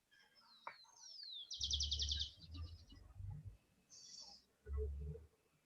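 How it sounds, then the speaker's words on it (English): Birds chirp and trill outdoors, with a few bright rapid twittering bursts and sweeping calls over faint background sounds, moderately close but quiet. "I hear some birds."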